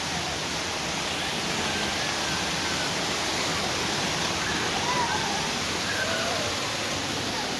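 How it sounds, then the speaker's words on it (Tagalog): Cold spring water at Lonoy flows in a steady, close rushing hiss that stays even and unbroken throughout, with no other sounds standing out. "ito po yung tubod, cold spring guys"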